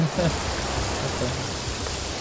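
Rain falling in the video game Paradise Killer, a steady hiss of drops sounding continuously throughout at an even, moderate level.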